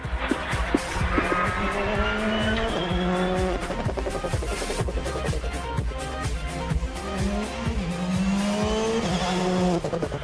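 A rally car in the Critérium des Cévennes 2019 roars through a stage, its engine note rising and falling through gear changes with tyre squeal and skidding under braking, loud and close, with no talk.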